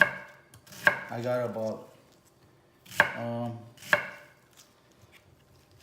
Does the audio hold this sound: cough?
no